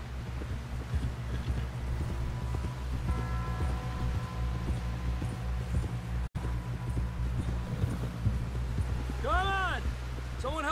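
Steady hoofbeats clip-clop in a continuous rhythm under a low drone and music in Red Dead Redemption 2, with a voice speaking briefly toward the end.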